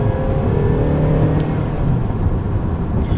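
A 2012 Honda Civic accelerates with a steady, rising engine hum heard from inside or close by, continuous and moderately loud with no talk.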